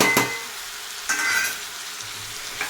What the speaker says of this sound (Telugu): మనం ముందుగా కట్ చేసి పెట్టుకున్న ఉల్లిపాయ టమాటా అలాగే పచ్చిమిర్చిని ఇప్పుడు ఇందులో యాడ్ చేసేద్దాము